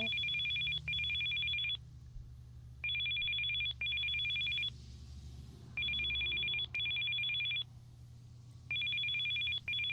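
A telephone set across a room rings in a video game, a steady electronic double-trill that repeats four times with brief gaps, clear and prominent over a low background hum.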